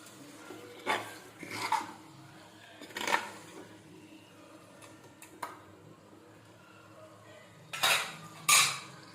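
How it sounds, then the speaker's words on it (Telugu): A spoon mixes onion pieces with half a kilo of mutton in a pot, making scattered metallic clinks and scrapes at irregular intervals, close by, with quiet gaps between. "ఇప్పుడు ఒకసారి ఆ ఉల్లిపాయ ముక్కల్ని మటన్ని కలుపుకుందాం."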